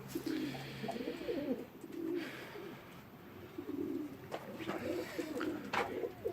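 Pigeons coo softly in a loft, several soft rolling calls repeating at irregular intervals against a quiet airy background, fairly distant and faint, with no talking.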